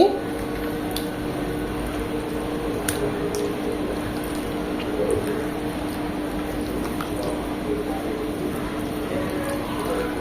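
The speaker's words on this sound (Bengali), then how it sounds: "এখন এগুলো সব একসাথে মেখে নেব খুব ভালোভাবে মাখতে হবে হাত দিয়ে মাখছি" Chicken pieces being kneaded by hand with spices and marinade for barbecue chicken, giving soft, steady squelching and wet squishing close up, with no talking.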